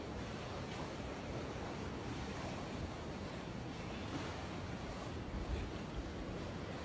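Steady sea surf at the Blue Lagoon in Portland, Jamaica washes continuously as a broad hiss, with gusting wind rumbling across the microphone and no talking.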